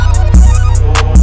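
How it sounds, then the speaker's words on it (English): A short burst of Omnisphere's pop male scoop Os vocal synth sings choppy, syllable-like oo tones over a heavy, thumping low end, loud and close with no talking. "which is the pop male scoop O's from Omnisphere"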